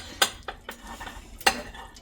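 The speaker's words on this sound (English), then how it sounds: "we're going to make sure we scrape the sides here" A spatula scrapes the sides of a mixing bowl holding sticky date square mixture, giving two sharp scraping strokes and softer stirring scuffs between them, close up and without talk.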